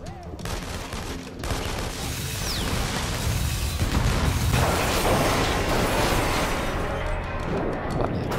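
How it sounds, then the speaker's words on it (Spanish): An explosion tears through a fight in the action game InFamous Second Son, a dense crashing roar of blasts, gunfire and clattering debris sustained for several seconds amid the game's background noise. "Vale, explosión total."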